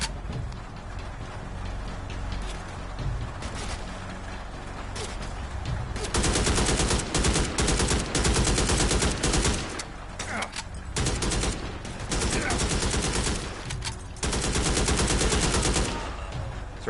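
AK rifle fire in the PSVR shooter Immortal Legacy comes as loud bursts of rapid automatic shots, broken by short pauses, over quieter game ambience before it.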